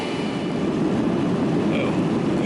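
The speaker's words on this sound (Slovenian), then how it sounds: "Pojačuje se zvok motorja." Inside an airliner on the runway, the engines roar in a loud, steady, broadband rush as the takeoff run builds, filling the cabin.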